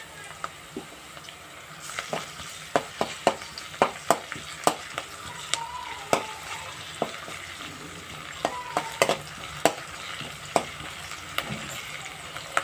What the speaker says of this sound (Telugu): అల్లం వెల్లుల్లి పేస్ట్ పచ్చివాసన పోయే వరకు ఫ్రై చేయాలి